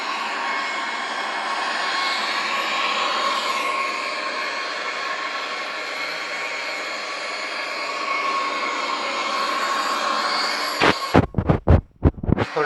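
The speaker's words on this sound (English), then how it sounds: "We are approaching with the Boeing 737-800" A Boeing 737-800 on landing approach in Microsoft Flight Simulator X gives a steady, loud jet engine drone with a high whine on top, then breaks into choppy bursts near the end.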